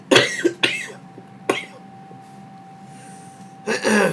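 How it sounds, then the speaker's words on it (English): A few sharp coughs close to the microphone, two quick ones then a third after a pause, followed by a throat-clearing burst near the end. "today I have a bit of a cough"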